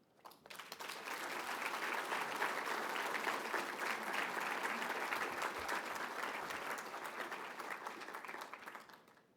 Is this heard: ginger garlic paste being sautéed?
no